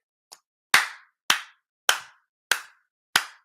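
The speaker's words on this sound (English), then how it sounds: "Is the clap coming through on my microphone?" Five sharp, isolated hand claps ring out at a steady pace, each crisp and close, following one faint softer tap, with silence between them.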